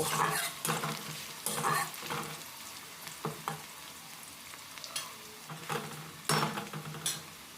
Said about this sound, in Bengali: তেজপাতা দিয়ে পেঁয়াজটা এখানে আমি হালকা ভেজে নেব